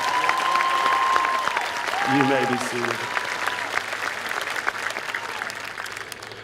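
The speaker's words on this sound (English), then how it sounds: "Let's give them a good round of applause." Audience applause fills a high school graduation commencement ceremony, a steady wash of clapping from a large crowd with a voice speaking over it partway through.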